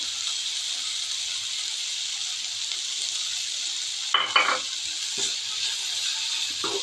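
Carrot and bean poriyal with grated coconut is stirred in a hot pan, giving a steady, close sizzle broken midway by a few quick scraping stirs, with no voices.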